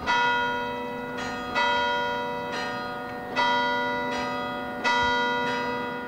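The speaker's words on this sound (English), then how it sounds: "church bells rang at 1 p.m." Church bells ring out at 1 p.m. in Robbinsdale during a moment of silence, steady loud strikes about every one and a half seconds, each tone swelling and hanging over a constant hum, no voices.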